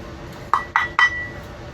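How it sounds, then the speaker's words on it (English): Three quick metallic clinks and knocks as a solid cast iron frying pan is picked up and set against a lightweight gas camping stove, close and fairly loud, evenly spaced within about half a second. "Alright, I got my cast iron frying pan."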